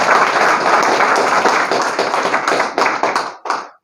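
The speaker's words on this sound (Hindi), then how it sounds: "अजय कुमार शर्मा जी के लिए एक बार जोरदार ताली" Loud applause breaks out from an audience at a company meeting, close, dense clapping that thins into scattered claps and stops near the end.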